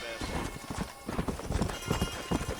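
Horse hooves clip-clop in an uneven rhythm in the Red Dead Redemption video game, a run of close, moderately loud hoofbeats over a background hum.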